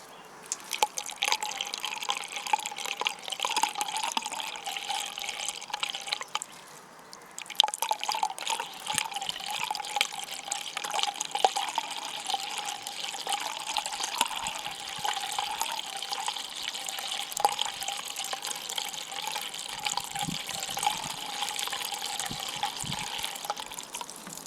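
Water pours steadily from a can into the reservoir of a self-watering vegetable planter, a continuous splashing trickle with a brief pause partway through, close and moderately loud.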